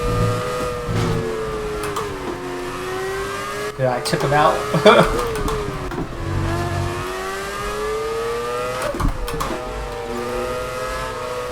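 Race car engine in the F1 2020 video game, revving and surging as the throttle reopens amid oversteer, with tonal pitch sweeps rising and falling throughout, under a voice talking.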